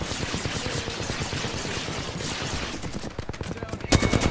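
Rapid automatic gunfire in the battle-royale game Apex Legends, with Loba in play, rattles in dense continuous bursts, a louder burst near the end, over game noise with a faint voice underneath.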